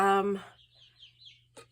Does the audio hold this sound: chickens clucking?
yes